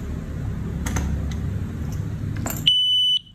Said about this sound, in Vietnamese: bíp một cái có nghĩa là chế độ báo động bắt đầu khởi động.